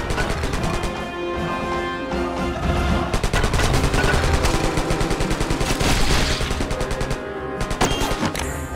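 Rapid-fire shooting in the arcade light-gun game Attack of the Movies, a dense, loud burst of repeated gunshots that continues for several seconds before easing off.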